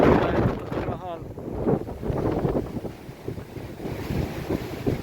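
A strong cyclone batters Kharkiv, and near the open beach the wind buffets the microphone in loud, uneven gusts, with rushing air and water noise below and no speech.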